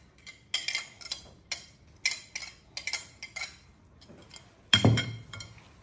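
A utensil stirs beans mixed with about 300 grams of grated Russian cheese in a bowl, giving a series of light, irregular clinks and scrapes with a sharper knock near the end, quiet and close with no talking.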